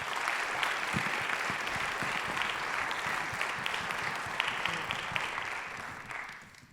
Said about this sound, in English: So just a round of applause to all the current kids and future kids.